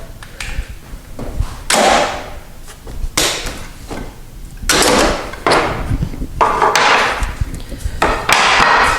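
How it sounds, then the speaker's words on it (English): Clamps come off a glued bypass sliding closet door in a series of loud wooden knocks and clatters, irregular and close, with rattling handling between them. "we're going to take these clamps off."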